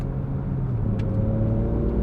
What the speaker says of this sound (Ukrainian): Ти можеш слухати на верхах, як гарно на високих нотах співає мотор